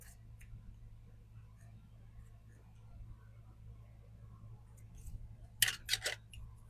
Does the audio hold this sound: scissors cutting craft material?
yes